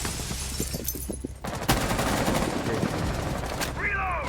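Bursts of gunfire crack repeatedly through dense, noisy Rainbow Six Siege game action, with rapid shots early on and a continuous busy background throughout.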